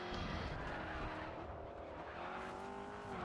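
A race car sliding through a corner on the handbrake in the racing game Grid, with a close continuous engine roar and tire skid throughout the short burst.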